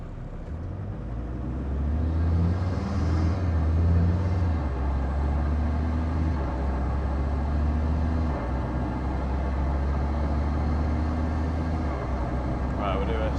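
A Land Rover Td5 diesel engine paired with a ZF 8HP automatic gearbox pulls hard in seventh gear under load, a loud, steady low drone that swells after the first two seconds and holds, with talk over it.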